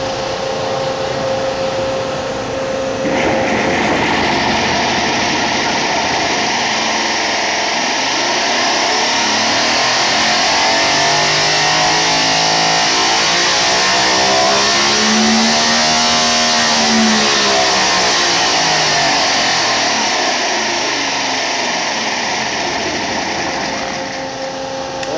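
A Comp Cams test rig spins an engine valve train of 15 valves with no rods or pistons, a loud, steady mechanical whir that rises and falls in pitch over about twenty-five seconds, with no talking.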